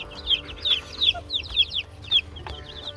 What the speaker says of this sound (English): Look at these chickies.